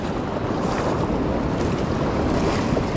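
Ocean surf with a bigger swell rolls continuously on a beach where someone is fishing, a loud, steady wash of waves mixed with wind buffeting the microphone.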